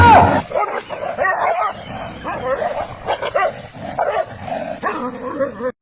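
Dogs barking and yelping close by in an outdoor street scene, repeated bursts running through the whole stretch, with some whimpering mixed in.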